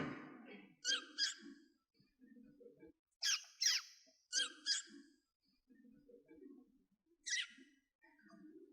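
A person whistles and squeaks with the voice in imitation of bird chirps, making several sharp bursts in pairs. Low murmuring sounds fill the gaps between them, close and fairly quiet.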